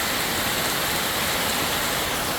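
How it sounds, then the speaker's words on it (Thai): Steady rain falls over Tha Muang in Kanchanaburi, Thailand, a dense, even hiss that runs without a break from start to finish, with no voices. "ท่าม่วงกาญจนบุรีฝนตกเรียบร้อยแล้วนะครับ"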